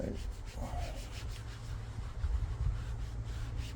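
A cloth rubs leather and plastic repair polishing wax onto plastic car trim, a steady close scrubbing and swishing with a soft rhythmic rasp and no voices.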